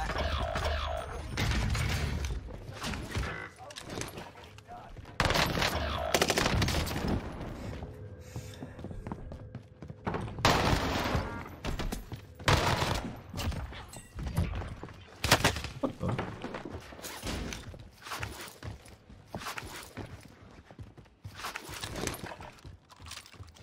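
Gunfire rattles across the Rebirth Island map in Call of Duty, with irregular bursts of sharp, loud shots and thuds clustered together and separated by brief quieter gaps.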